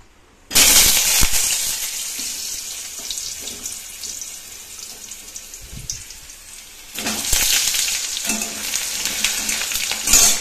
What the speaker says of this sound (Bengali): চলো আলুটা ভেজে নিই, একটা একটা করে সবজি ভাজবো